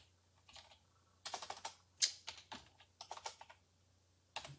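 Keys clatter on a computer keyboard as a coupon code is entered, quiet and close, in short irregular bursts of clicks separated by brief pauses, with no talking.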